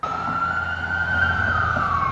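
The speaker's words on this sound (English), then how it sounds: "the ambulance comes in" An ambulance siren arriving at a church where a large crowd has gathered, its steady wailing tone holding loud and continuous with a slight rise in pitch over a low rumble of traffic.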